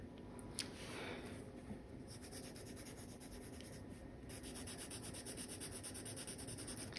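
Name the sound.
graphite pencil drawing on paper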